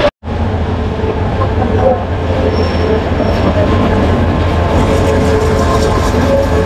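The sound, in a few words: train starting to move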